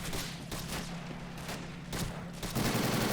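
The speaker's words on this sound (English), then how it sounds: "Most likely Allied mortar." Rapid bursts of Allied mortar and gunfire crack through a WWII battle in Italy against German Fallschirmjäger, with several sharp blasts in quick succession over a constant rumble.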